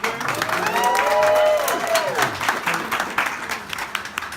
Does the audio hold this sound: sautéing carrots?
no